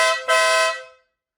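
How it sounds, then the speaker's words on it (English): A Wolo BadBoy dual-tone Italian air horn fitted to a Saturn Sky sounds one loud, brassy blast of about a second, with a brief dip near the start before it steadies, then cuts off cleanly. "sweet dual tone Italian air horn sound. Nice and loud."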